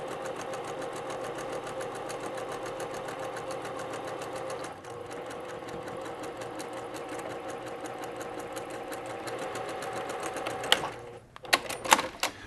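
A sewing machine stitches a hexagon quilt, running in a fast, even mechanical whir with a brief pause midway, then clattering and clicking as it stops near the end; no talking.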